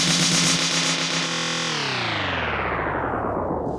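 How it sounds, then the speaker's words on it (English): A drum fill's reverb tail is reprocessed through the effects of a Pioneer DJM V10 mixer, a dense washed-out wall of sound that sweeps downward in pitch and thins out over a few seconds, with no voices. "You'll get that reverb tail, and then by using the internal effects,"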